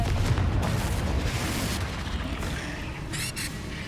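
A Confringo blasting spell explodes in the video game Hogwarts Legacy: a deep, loud boom that rolls into a sustained low rumble and slowly fades, with a faint crackle near the end.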